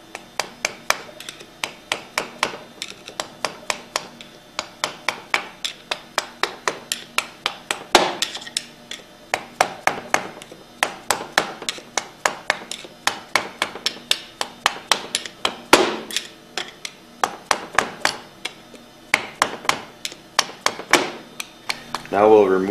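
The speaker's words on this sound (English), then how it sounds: "Next, we'll remove the V-packings by tapping them out." V-packings tapped out of a Hypro 2535S piston pump manifold with a tool, a long series of sharp, close metallic taps in quick irregular bursts, some louder strikes standing out, with no talk over them.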